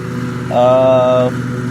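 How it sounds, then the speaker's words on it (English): A steady low engine drone runs throughout, like a lawnmower running nearby, with a brief higher-pitched mechanical whine rising over it midway. "I don't know if you could hear all that lawnmower shit going on in the background"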